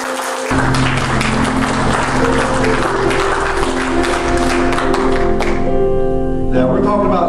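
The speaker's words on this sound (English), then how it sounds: "give Lord a hand clap for Christ" Church congregation clapping for Christ during a service, a steady wash of hand claps mixed with organ or keyboard chords and some voices, continuing for several seconds at close, loud level.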